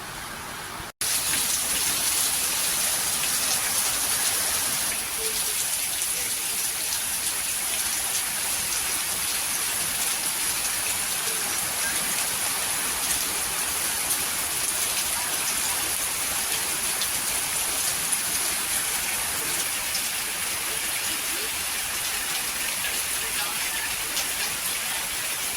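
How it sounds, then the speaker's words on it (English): Heavy rain pours in a dense, steady hiss that starts abruptly after a second and continues evenly at a strong, close level with no talking. "it's raining so badly."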